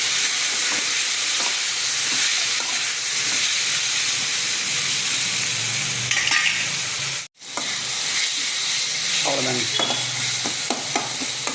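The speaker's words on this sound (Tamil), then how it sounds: "வதங்கிச்சு தக்காளியும் போட்டுக்கோங்க இது கொஞ்சம் வதங்கட்டும்" Tomatoes sauté in a hot pan for a chutney, a loud continuous sizzle and hiss with occasional stirring scrapes and a brief cut partway through.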